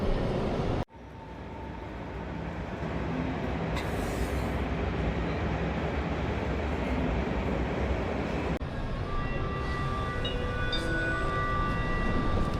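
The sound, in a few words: train ride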